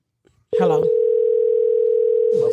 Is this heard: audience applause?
no